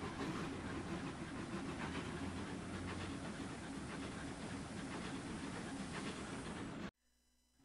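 Steam locomotive Duke pulls away toward the shed, a steady loud chuffing hiss and rumble with rail clatter running continuously, then cutting off abruptly near the end.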